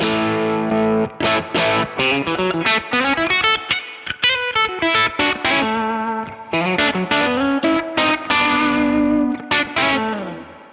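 Electric guitar played through an RC Booster overdrive pedal, with a mildly driven, punchy tone on chords and melodic single-note lines that ring out continuously and up close, with short gaps between phrases and no voices.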